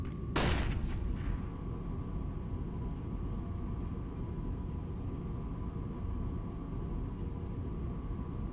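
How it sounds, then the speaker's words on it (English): A flashbang grenade in Counter-Strike: Global Offensive goes off with one sharp, loud bang, followed by a long, steady high ringing tone over a dull background hum. "Throwing flashbang."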